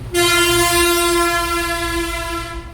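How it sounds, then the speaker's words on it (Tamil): A passing train sounds a long, loud, steady horn blast with strong tonal harmonics over the rumble of the cars, close by and alone, without talk. "அப்போ இந்த வண்டி சவுண்டு பயங்கரமாக இருக்கு"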